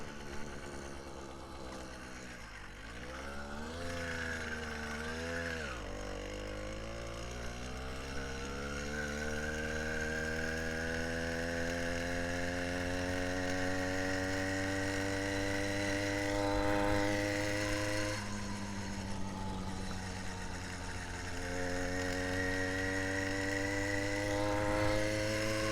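A two-stroke engine on a motorized bicycle kit runs steadily and close by, its buzzing drone rising and falling in pitch as the throttle is worked, with no one talking.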